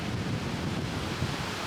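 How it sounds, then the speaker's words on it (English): Strong wind and rough sea surf roll steadily at breezy Hua Hin Beach in Thailand, a loud, continuous roar of breaking waves mixed with gusty wind buffeting the microphone. "It's very breezy today"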